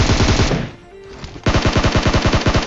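Automatic gunfire in PUBG Mobile, a rapid loud burst of repeated shots, then a short lull, then another steady volley of rhythmic shots up close.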